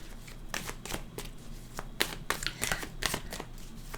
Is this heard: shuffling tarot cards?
yes